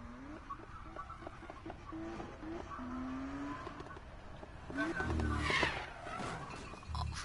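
Car skidding with a handbrake in a street-racing video game, an engine droning and rising with a brief tire squeal and skid near the end, under a speaking voice.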